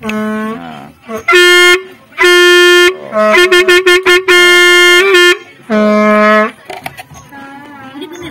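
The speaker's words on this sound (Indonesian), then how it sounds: "Kalau pakai balon dia lebih enak lagi suaranya." A homemade toy trumpet built from leftover thread spools with a balloon membrane gives loud buzzing honks: long sustained blasts and a quick run of short toots, with a person speaking briefly between them.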